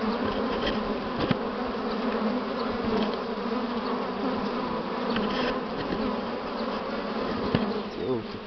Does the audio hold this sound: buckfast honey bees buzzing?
yes